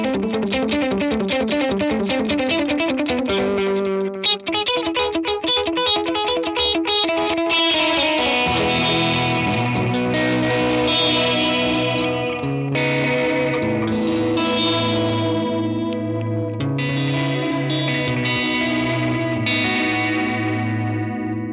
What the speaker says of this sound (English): Dotted eighth note delay with the Deluxe Mind Guy gives us this.